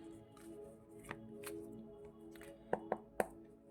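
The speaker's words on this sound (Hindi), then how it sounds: "ओके, दोबारा से शफल करते हैं।" Tarot cards being shuffled, soft muffled rustling followed by three crisp taps near the end, close and quiet.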